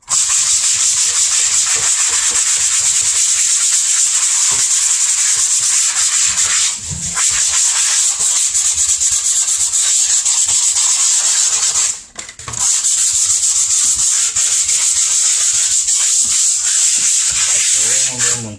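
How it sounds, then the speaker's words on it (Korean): Loud, continuous scraping hiss of a wide scraper dragged across a flat surface to remove sticky adhesive residue, with rough grainy texture and two short pauses between strokes. "최대한 좀 넓은 스크래퍼나 이런 거를 사용하여 면을 긁어주시는 것이 좋습니다"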